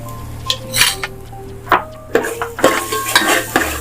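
Spoon scraping and clinking through dry chicken masala in a metal pan, a string of close, irregular stirs and knocks over a faint steady sizzle, with no talk.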